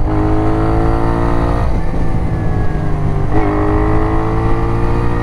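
A Moto Guzzi V7 Racer motorcycle engine runs at a loud, steady, throbbing idle up close, with two brief rises in revs that settle back again.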